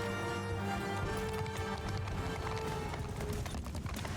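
Cavalry horses gallop in a charge during a battle in the medieval combat game Mount & Blade II: Bannerlord, a dense flurry of hoofbeats under a steady battle din with a sustained tonal background.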